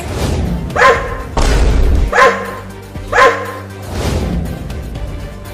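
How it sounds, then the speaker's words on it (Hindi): A big, angry cartoon dog barks in three loud, deep bursts spaced about a second apart, with heavy thumps under them and no talking. "अरे देखो वो कुत्ता कितना बड़ा है और वो गुस्से में भी है।"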